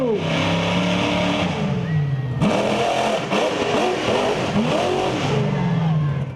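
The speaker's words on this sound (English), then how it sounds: "Monster trucks." A monster truck engine revs loud and close at a show, its pitch climbing and dropping in repeated surges over a constant roar, with no clear talk over it.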